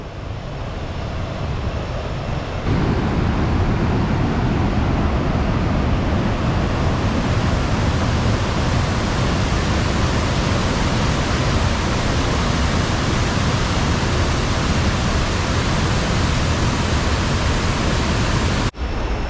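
A waterfall in Laos rushes with a loud, continuous roar of broadband noise, close and steady throughout, with a slightly quieter opening moment and a brief cut near the end.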